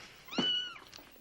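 A cat gives a single short meow indoors, fairly near and clear against a quiet background, followed by a faint trailing sound.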